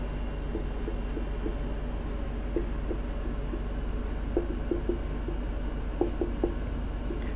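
A pen writes on a surface, a steady run of soft scratching strokes in short bursts over constant background hiss, close and quiet with no talking.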